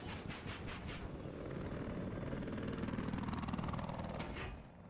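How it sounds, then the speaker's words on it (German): In a Battlefield video game, a jet aircraft roars past as a broad, rushing engine wash that swells and then fades over about five seconds, fairly faint and mixed with game noise. "Doch, das ist hier links. Ein Jet."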